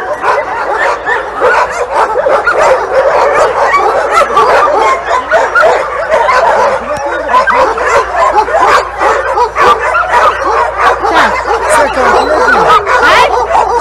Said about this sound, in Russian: Приехали собаки к нам.